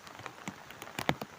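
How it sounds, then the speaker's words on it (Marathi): Heavy monsoon rain during paddy planting in a Konkan rice field, heard as a steady wash of drops with a few sharper splashes close by. No voices are heard. "पाऊस आज खूपच आहे, बघू शकता."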